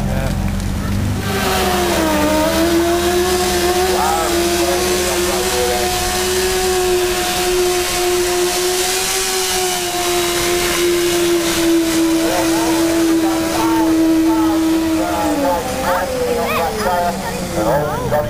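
A motorcycle engine at a stunt riding display at an indoor motorcycle show in Manchester drones at a sustained steady pitch as the bike circles round and round, dipping as it slows near the end, with a commentator talking over it.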